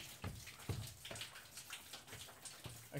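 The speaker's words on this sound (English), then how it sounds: "Oh, there's a leak right there." Water leaking and dripping in an abandoned factory, faint irregular drips and splashes spread through a quiet, echoing space with no talking.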